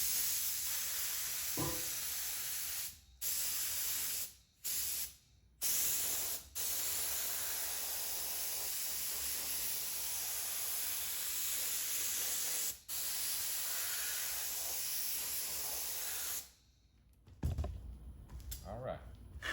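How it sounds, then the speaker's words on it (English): A spray can of glue hisses steadily onto black suede material for a truck sun visor, in long continuous bursts broken by several short pauses, close and fairly loud, with a few knocks near the end. "where we need to spray the glue"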